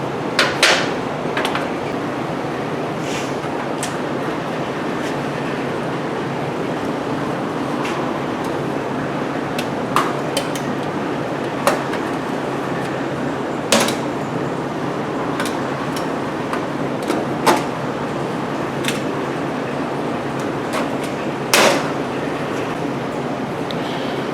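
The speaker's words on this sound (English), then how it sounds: "we'll drill and put a rivet or two around there to hold it in place" A drill and riveter work on aluminum heater duct for a heated dog house: sparse sharp clicks and snaps at irregular intervals over a steady low background hum, with no talk.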